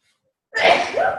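A single loud, close sneeze bursts out after a moment of silence.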